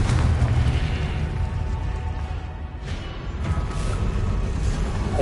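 Confringo fire-blast spell explosions in the Hogwarts Legacy video game on PS5: heavy, booming blasts with a rolling low rumble, with fresh bursts hitting near the middle and again toward the end, loud and close.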